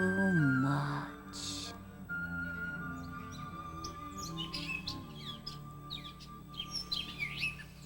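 Small birds chirping and singing in bright overlapping tweets and trills, with a steady tonal background and a sweeping sound at the start, fairly clear and without talk.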